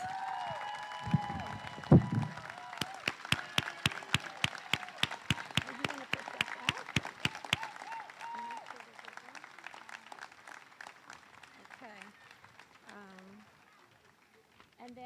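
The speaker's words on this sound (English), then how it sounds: "we're going to give you a big round of applause" An audience applauds the fifth grade class at the 2021 Berkley Street School moving up ceremony, with sharp, evenly spaced rhythmic claps that thin out and fade as talking continues underneath.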